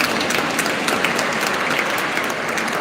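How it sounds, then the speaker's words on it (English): An audience at a school festival applauds steadily throughout, a dense, continuous wash of clapping at fairly constant loudness. "A big round of applause, please."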